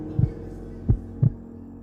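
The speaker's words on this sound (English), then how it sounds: "Ooh, the heartbeat" Three slow, deep thumping heartbeats used as a horror-story sound effect, spaced irregularly over a low steady hum with no talking.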